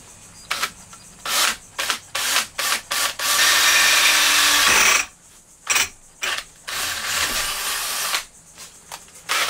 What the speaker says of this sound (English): it's hard to drill through a lot of steel with a big fat bit. So I'm using a smaller one